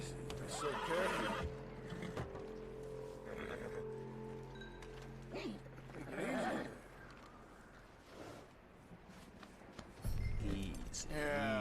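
Horse neighing in Red Dead Redemption, several loud whinnies and snorts close by with hoof clip-clop and rustling between them, plus a voice talking at moments.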